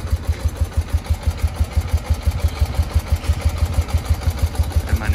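A BMW R100 boxer-twin motorcycle idling, a loud, close, steady low thumping pulse at a quick even rhythm with slight mechanical clatter, no voices.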